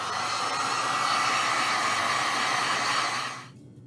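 A hair dryer drying paint on a marquetry-effect piece runs as a loud, steady close whoosh and hiss, then cuts off near the end and leaves near silence.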